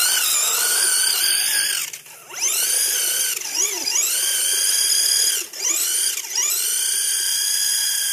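A Tamiya Angry Hornet RC car's small electric motor whines loudly as it climbs a sandy hill, its pitch rising and dipping repeatedly with throttle changes and brief pauses.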